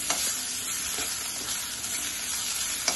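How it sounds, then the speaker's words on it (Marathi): Onion, ginger-garlic paste, chopped chili and curry leaves fry together in a pan, a constant fairly quiet sizzle with occasional spatula scrapes and a small clack near the end. "लसूण पण थोडासा भाजून घेऊ आपण कांद्यामध्ये"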